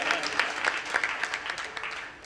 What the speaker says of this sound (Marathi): टाळी वाजवा जोरदार.